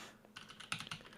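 Keystrokes on a Monstargears Classic TKL mechanical keyboard with an aluminum top-mount case, Oolong switches and GMK Birch keycaps, a handful of close, crisp clacks at an uneven pace.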